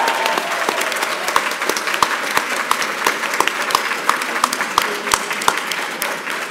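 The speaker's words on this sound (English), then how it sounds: "let's give one more huge round of applause for Koji Soken and Aimee." A crowd at a PAX Prime 2015 panel claps continuously and energetically, a dense rattle of many hands close by, sustained throughout without pause.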